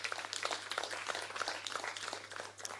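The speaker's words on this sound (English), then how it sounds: "I really want us to clap for them in a very big way" An audience applauds health workers at a COVID-19 patient discharge event at Entebbe Grade B Hospital, with steady, dense clapping sustained throughout at a moderate, somewhat distant level.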